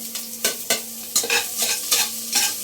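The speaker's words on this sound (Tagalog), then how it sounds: "Kunting gisa-gisa lang." Ginger and garlic sautéing in oil in a pan, a close, lively sizzle with repeated rhythmic stirring scrapes of a spoon.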